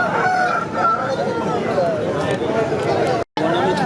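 A fighting rooster crows at the G. Mamidada fighting-cock market, its calls rising over nearby people talking and a busy market murmur.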